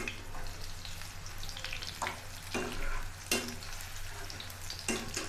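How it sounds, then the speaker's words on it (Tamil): Soya chunks fry in hot oil, a steady close sizzle with several sharp bursts of crackling and scraping stirs spread across the clip, no voices. "எண்ணெயில் போட்டோடனே நல்லா புசு புசுன்னு வருது பாருங்கள்"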